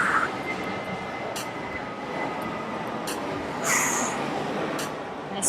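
Airplanes passing overhead outdoors, a steady, distant rumbling roar that fills the background, with faint higher chirps over it.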